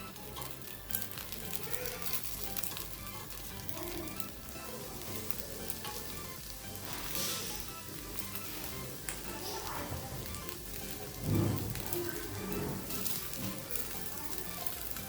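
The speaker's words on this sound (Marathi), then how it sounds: "साईडने आपण तेल सोडूया. तेल सोडल्यामुळे लगेच परतले जातं." Appe made from rice and mixed dal fry in oil in an appe pan, a steady sizzle running throughout with a brief louder burst near the end.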